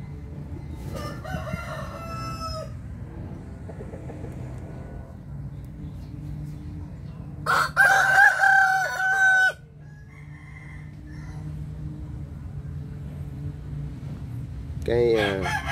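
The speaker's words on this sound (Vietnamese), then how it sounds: "mình quay con gà khác cho anh em xem chơi nha" A rooster crows outdoors in several separate bursts, one loud and close in the middle and others fainter, over a steady low background hum with brief clucking between.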